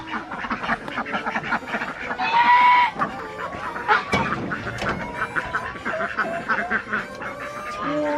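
Ducks and chickens in farm nesting boxes quack and cluck close by in a busy, overlapping mix of calls.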